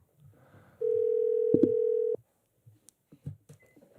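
A telephone line connecting a caller into a live show gives one steady electronic dial tone lasting over a second, followed by faint clicks and brief quiet sounds, with no talk.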